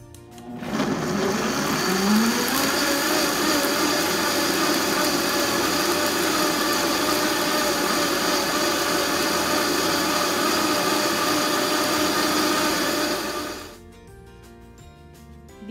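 A blender blends sauce with garlic cloves, running loudly and steadily for about thirteen seconds, its motor whirring at a constant pitch before cutting off abruptly.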